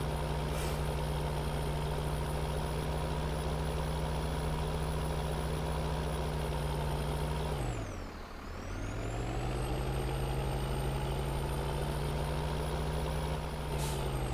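A truck engine idles in Farming Simulator 2013, a constant close, low droning hum with tonal whine that briefly dips and sags midway before recovering to a steady idle.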